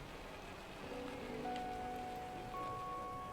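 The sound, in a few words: acid rain falling on a toxic planet in No Man's Sky video game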